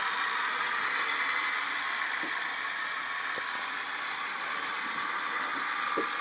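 A small Black & Decker rotary tool spinning at up to 30,000 RPM on a homemade budget CNC machine gives a steady, even whine and hum, running alone at constant pitch with faint ticks.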